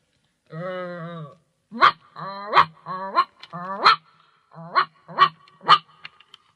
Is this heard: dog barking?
yes